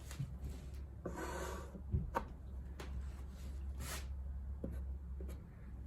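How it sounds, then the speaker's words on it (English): Chisel edge scraping caulk from the corner of a wooden cabinet door for a Scamp trailer, several short faint scratching strokes against a low steady hum. "So I just take the chisel and use that straight edge to get the caulk out of that corner."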